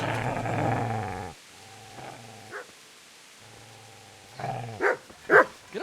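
Dog in Kingdom Come: Deliverance growling and barking up close: a long throaty growl, then short growls and a few sharp barks and yips toward the end.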